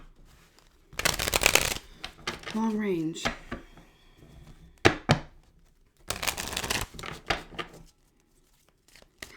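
Tarot cards shuffled by hand in bursts of dry, riffling flutter, two long runs separated by pauses, with someone speaking briefly in between.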